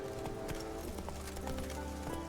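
Hooves of Roach, a horse in the Witcher 3 video game, clip-clop in a steady rapid rhythm over a constant background bed of game ambience and music, close and fairly loud.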